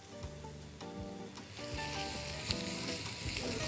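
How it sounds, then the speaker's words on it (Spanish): Onions sizzle while frying in a pan for a frittata, a steady crackling hiss that swells louder midway and carries on throughout, with faint stirring knocks underneath. "friendo las cebollas hasta que estén un poco translúcidas"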